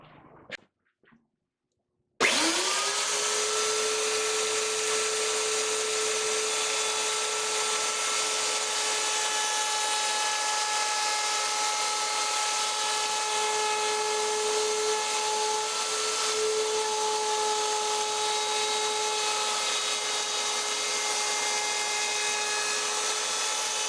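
A power tool cuts a bevel on mandolin truss rod covers, with a click, a brief pause, then a steady high whine that holds evenly for about twenty seconds, close and loud.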